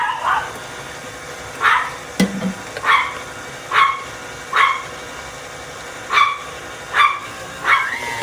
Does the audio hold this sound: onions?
no